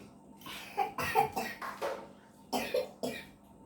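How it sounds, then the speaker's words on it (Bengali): A child coughs repeatedly, several short harsh bursts in two clusters with brief pauses between, close to the listener. "তোমার কাশি হয়েছে না?"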